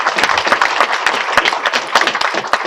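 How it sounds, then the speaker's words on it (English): Audience applause fills a city council meeting in Pinellas Park, a steady dense clapping that stays loud and close throughout with no pauses. "let's start by giving these men and women a great big round of applause."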